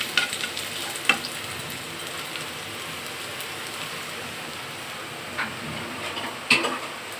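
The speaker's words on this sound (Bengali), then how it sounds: "রসুন ও পেঁয়াজ ভালো করে ভেজে আসলে তার মধ্যে একে একে দিয়ে দিব" Garlic and onion fry in a pan with a steady, even sizzle throughout, broken by a few faint clicks of a utensil and no talking.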